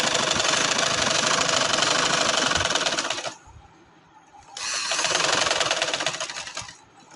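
A sewing machine runs stitching a kameez neckline, a rapid mechanical whir and clatter in two long close bursts with a short quiet pause between them, and no talking.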